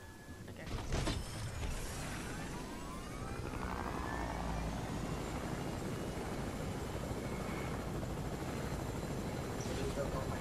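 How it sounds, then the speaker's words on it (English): A helicopter in the Fortnite video game produces a continuous, loud rotor whir and engine drone that swells early on and holds steady, with players talking over it. "Oh, the chopper."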